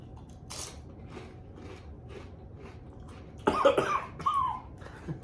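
After inhaling seasoning from a spicy snack, a person coughs sharply several times close by, a faint early cough followed by a louder burst of harsh coughs and a strained throat sound.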